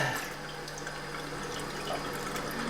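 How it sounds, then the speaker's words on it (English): Water runs in a gentle, steady stream through an AlkaViva Venus JP-107 water ionizer at about two-thirds flow, a soft continuous hiss with a faint hum underneath. "We'll turn the water on, we'll divert the water to the machine, we'll turn the flow control valve to about 2/3 to produce a nice easy flow."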